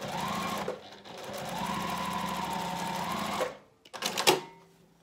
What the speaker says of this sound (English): Take it back to your sewing machine and stitch along this seam using 1/8 inch seam allowance